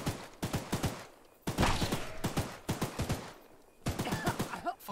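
Gunfire in the video game Choo-Choo Charles comes as rapid bursts of sharp shots in quick clusters, separated by brief pauses, moderately faint with no speech over it.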